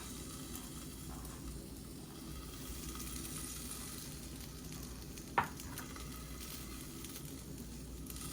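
Rice dumped onto a hot pan keeps up a steady, even sizzle throughout, with one sharp clack partway through.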